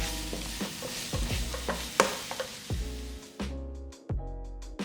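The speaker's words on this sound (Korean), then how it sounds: "카레가루 소복기 1스푼 넣고 덩어리 지지 않게 골고루 색깔나게 섞어준 후 불을 꺼줬다" A utensil scrapes and stirs curry powder repeatedly against a pan in quick, uneven strokes, with a faint sizzle underneath and no talking.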